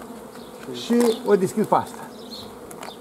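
Honeybees buzz around a beehive as a beekeeper works the colony, a busy droning hum running throughout beneath a man's brief nearby speech and some clattering handling noises.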